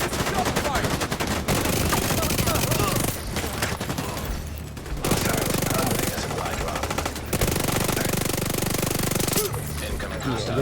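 Sustained automatic gunfire in the video game The Division 2, loud rapid bursts running almost continuously with a few short pauses between volleys, close and dense.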